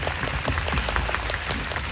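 An audience applauding for Pa Paeng at a Thai series finale event, dense, continuous clapping that fills the room at an even level throughout.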